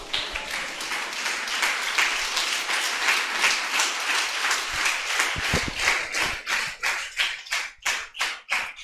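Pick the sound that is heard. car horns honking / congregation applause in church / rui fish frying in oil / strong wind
congregation applause in church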